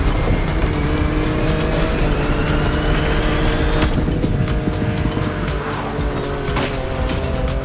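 Cars racing on a winding Hawaiian mountain pass in The Crew Motorfest video game, engine note held steady and loud with rising whine and tire squeal, no talking.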